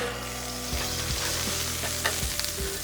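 Olive oil and butter sizzling on a hot Blackstone griddle, a loud close crackle with scraping and tapping of a spatula stirring at irregular intervals.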